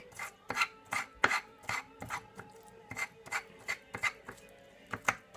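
Fibrous bamboo shoots being scraped into fine shreds for a Thai bamboo shoot soup, a steady series of rough rasping strokes about twice a second, close and clear with no talk.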